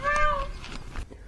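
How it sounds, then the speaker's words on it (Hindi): A peacock calls in the hilly forest near Tapkeshwar Mahadev in Sikar, Rajasthan. A loud, cat-like mewing cry opens the clip, followed by fainter calls echoing in quiet open air. "आपको सिर्फ मोर और पक्षियों की मधुर आवाज़ सुनाई देगी।"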